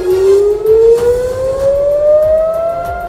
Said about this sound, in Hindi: रात को हवाई हमलों की चीख चीख कर चेतावनी देते सायरन लोगों को भुतहा आवाज की तरह डराते सुनाई दिए